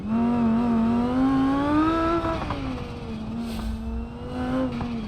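A race car engine in BeamNG.drive on the Pikes Peak map revs hard and steadily, a loud buzzing drone that climbs in pitch, dips as the gear shifts and then builds again, close and continuous with no talk.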